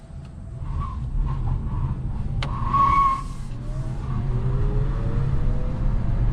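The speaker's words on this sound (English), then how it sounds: "Yep, definitely a good amount of wheel spin, especially from the inner wheel." Front tires of a 2022 Chevy Bolt EUV spinning with traction control off give a brief, rising squeal over a low steady road and motor rumble, heard from inside the car, then fading back to cabin noise.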